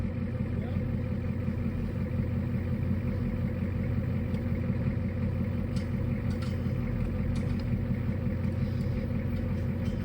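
An 80s Ford F250 diesel truck, a field find, running with a steady low rumbling idle, close and continuous throughout with no talk.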